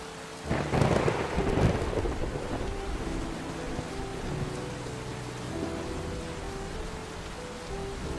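Heavy rain falls in a thunderstorm, with a deep rolling thunder rumble swelling in the first two seconds, then fading into a steady, dense downpour hiss.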